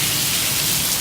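Steady, moderate rain falls outdoors near an unsheltered walkway, a continuous even hiss of drops with no pauses or voices.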